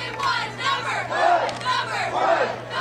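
A football crowd at a high school night game cheers and chants in rising and falling waves, led by cheerleaders, loud and close with a steady low hum underneath.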